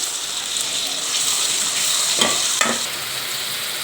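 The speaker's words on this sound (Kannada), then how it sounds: "ಇವಾಗ ಟೊಮೊಟೊ ಹಾಕ್ಕೊಳ್ಳೋಣ" Medium tomatoes and finely chopped capsicum fry in a pan with a loud, constant sizzle, broken by two quick scraping stirs near the middle.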